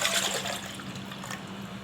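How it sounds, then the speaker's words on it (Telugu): Water is poured from a pot onto tamarind for pepper rasam, giving a brief, soft, splashy gush with no talking. "ఒక చెంబు వాటర్ వేసుకొని"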